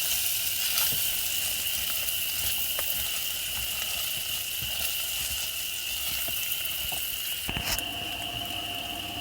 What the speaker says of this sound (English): the hot dogs are frying